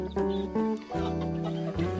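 Farm chickens cluck in a close, irregular series of short calls, several distinct clucks and squawks in quick succession with only faint background noise.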